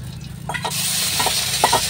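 A paste of ground coriander leaves and garlic hits hot white oil and erupts into a loud, bright sizzle, with a few clattering stirs and scrapes before and during the frying.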